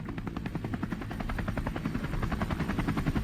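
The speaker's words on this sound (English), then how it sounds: "There were more than 80 helicopters shuttling people out to the carriers." A helicopter's rotor thumps in a rapid, steady beat, growing slightly louder as the craft draws nearer, during the 1975 Vietnam War evacuation to aircraft carriers.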